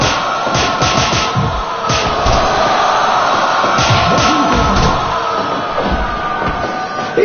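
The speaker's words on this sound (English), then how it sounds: "These superstars are beating the heck out of each other, and this crowd can't get enough of it." Wrestling arena crowd in the Fire Pro Wrestling World video game cheers and roars continuously, a loud, dense wash of crowd noise with rhythmic swells throughout and no talking.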